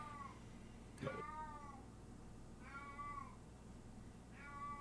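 A cat meows three times at roughly even intervals, drawn-out and fairly close, over a faint steady background hum with a brief knock between the first two calls.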